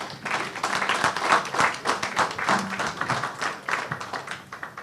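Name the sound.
audience applauding at ICT seminar ceremony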